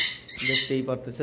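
Several high-mutation pet lovebirds squawk in harsh, rapid bursts close by, shrill cries overlapping as someone talks over them.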